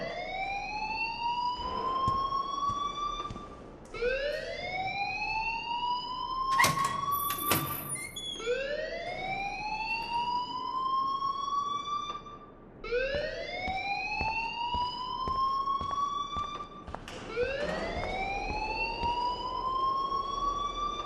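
Electronic fire alarm siren blaring in a high school in the Life Is Strange video game, a rising whoop repeated about every five seconds, loud and continuous, with a brief sharper burst near the middle.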